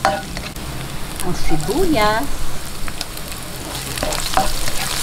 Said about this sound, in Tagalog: Isa-isahin lang po natin yung bawang hanggang sa mag-light brown.